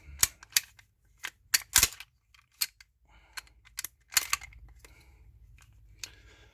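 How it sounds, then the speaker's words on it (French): The slide of a BUL M5 pistol is racked back by hand: a close series of sharp metallic clicks and clacks, some doubled, spread unevenly over several seconds with quiet gaps and no talking. "il va falloir que je tire ma culasse en arrière"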